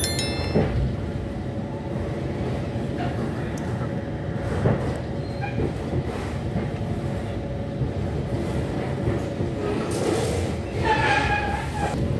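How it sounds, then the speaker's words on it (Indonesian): The Argo Cirebon passenger train pulls away from Jatinegara station, heard from on board as a steady low rumble of wheels and carriage with scattered clunks and squeaks, and a voice talking faintly beneath. "perjalanan kereta api Argo Cirebon sudah berangkat kembali dari stasiun Jatinegara"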